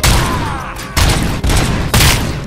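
Rapid video game gunfire from the RoboCop shooter set in old Detroit, a loud, dense fusillade of shots in three close bursts, each restarting sharply after brief dips.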